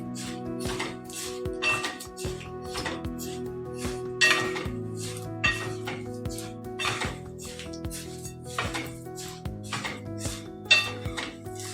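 Murmura chivda, puffed rice mixed in a pan on the stove, with steady light clinking and scraping of a utensil against metal and soft rustling throughout, fairly close and without talk.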